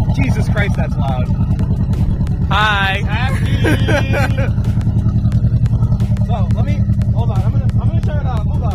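Car engine on its stock factory tune running loudly and roughly with a fast rhythmic chug throughout, while people talk briefly over it.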